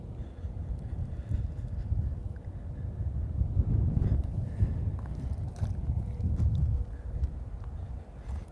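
Wind buffets a microphone outdoors in low, rumbling gusts that rise and fall continuously, close and fairly loud, with no clear talking.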